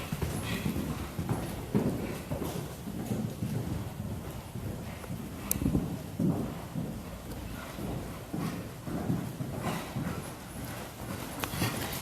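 Hooves of a ridden horse clip-clopping in a steady walking rhythm during a riding lesson, moderately close, with light wind noise and occasional faint talk.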